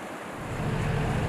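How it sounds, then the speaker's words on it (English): Surf rolling onto a beach on the Baja coast, a broad steady wash of breaking waves mixed with wind buffeting the microphone, brief and continuous, no voices. "I headed up the coast and to the beach"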